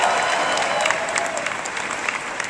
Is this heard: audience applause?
yes